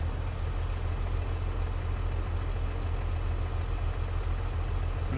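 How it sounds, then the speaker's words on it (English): A Farming Simulator 22 tractor engine idles in a constant, loud low-pitched drone that holds steady throughout, with no talking. "Tractor starts."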